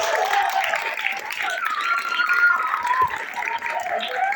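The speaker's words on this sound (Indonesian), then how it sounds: "Beri tepuk tangan yang meriah untuk sang" An audience at a student arts performance applauds, a steady wash of clapping at moderate volume that holds for several seconds with faint crowd murmur beneath.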